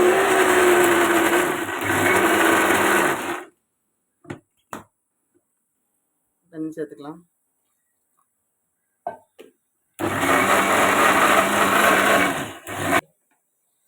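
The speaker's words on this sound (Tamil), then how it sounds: "மிக்ஸியில் அடிச்சிட்டு இருக்கோம்." A mixer grinder blending Indian gooseberry (amla) juice roars loudly in two bursts, separated by a quiet stretch with a few clinks and a short spoken remark.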